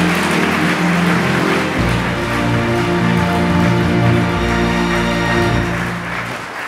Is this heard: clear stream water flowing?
no